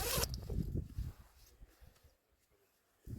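A mummy sleeping bag zips up during a wild camping trip on Dartmoor, with quick, close, rasping zipper pulls in short bursts at the start and end and quieter rustling between them.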